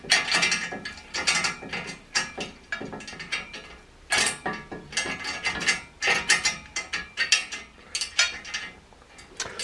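Spanners winding a bolt into a plastic-coated part, a quick series of loud metallic ratcheting clicks in short bursts with brief pauses between strokes, close up and alone.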